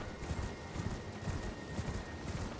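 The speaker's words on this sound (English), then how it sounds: "Now I can summon the horse and investigate areas." A summoned horse gallops across Liurnia of the Lakes in Elden Ring, its hooves making a steady, fairly loud clip-clop rhythm of evenly spaced thuds that runs through the whole moment.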